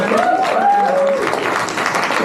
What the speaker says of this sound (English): You'll get a lovely round of applause.